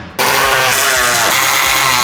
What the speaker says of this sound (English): You're gonna be using a 13mm socket to tighten those nuts.